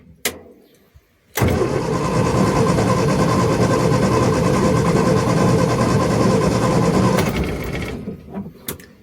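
An abandoned classic car's engine, fed from the bulb with a little choke, fires up after a couple of clicks and runs at a loud, steady idle for several seconds before cutting out.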